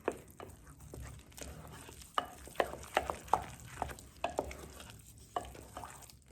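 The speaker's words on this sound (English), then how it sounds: "You just go in and gently mix that in" Gentle mixing of baking powder into a saltfish fishcake batter in a bowl, with soft repeated spoon scrapes and a few sharper clicks spread through the quiet kitchen sounds.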